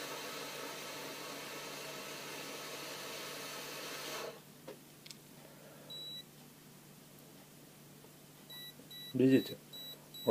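A cheap Chinese handheld breathalyzer runs a loud blowing hiss for several seconds, then gives a series of short, sharp electronic beeps, with a brief spoken word among them.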